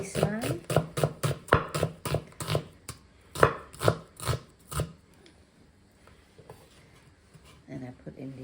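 A knife slices half an onion thinly on a cutting board, giving a quick run of sharp, regular chopping taps that slows and fades out, followed by a few faint scattered knocks.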